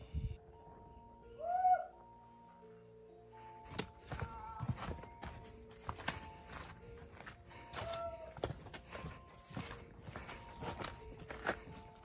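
A mountain bird on Mount Sindoro gives a couple of brief hooting calls, one early and one later, amid hikers' shuffling footsteps and gear thumps outdoors.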